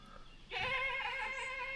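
A single drawn-out, nasal goat bleat rises and holds for over a second, clear and fairly close against quiet background, on Madeira.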